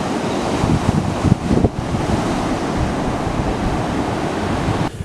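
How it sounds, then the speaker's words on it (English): Steady ocean surf washes and breaks close by, wind buffeting the microphone throughout, with no voices. "Alright, so the waves look good."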